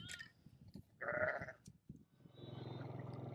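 Sheep bleat during sheepdog training while a hoof is being trimmed, with a loud nearby bleat in the middle followed by a steady baaing and low farmyard noise.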